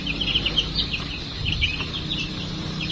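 Newly hatched native chicken chicks peeping: a cluster of high, rapid chirps repeating continuously close by over a low background hum, with no talk.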